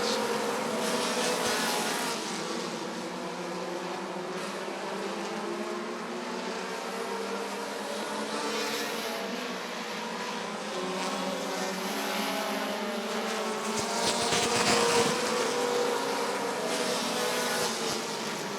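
Race cars lap a short oval track at Rockford Speedway, engines droning and swelling as they pass, with a louder surge near the end; the field is heard at moderate distance with no talk over it.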